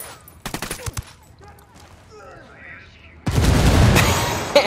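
Gunfire in the video game Ghost Recon Wildlands: a few sharp shots early on, then a loud sustained burst of rapid fire near the end, with voices heard in between.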